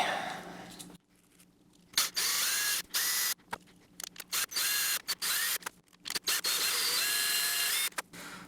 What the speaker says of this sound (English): So, I've got this sanding wheel.